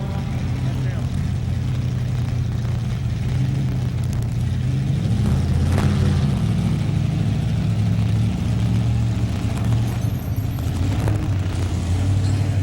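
A two-wheel-drive pulling truck from the 1993 NFMS Louisville, Kentucky truck pull revs with a steady, deep, loud engine roar that swells midway and holds, as an announcer talks over it throughout.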